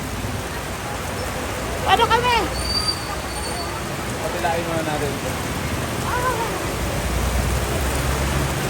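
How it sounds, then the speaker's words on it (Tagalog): Heavy rain suddenly pouring on a trip in Davao and Samal, a loud broad steady hiss of downpour filling the background as people talk over it. "Biglang lumakas ang ulan."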